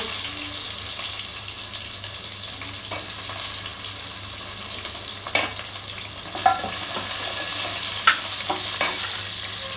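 Small shallots, peeled, sizzle steadily in a pan of hot oil for a Tamil egg paniyaram tamarind curry, with a constant close frying hiss and a few sharp clinks of a spoon stirring.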